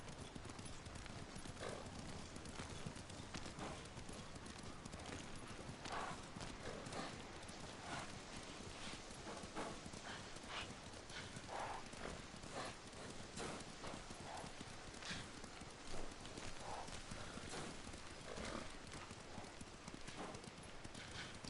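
A horse gallops in the video game Ghost of Tsushima, its hooves beating in a fast steady clip-clop rhythm through the whole stretch, fairly faint, with an occasional snort or whinny.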